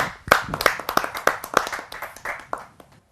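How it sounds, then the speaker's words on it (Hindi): Hands clap in a brisk, uneven burst of applause from a small audience at a Hindi poetry gathering, sharp claps close by, tapering off after a few seconds. "आप सबकी जोरदार तालियों के माध्यम से"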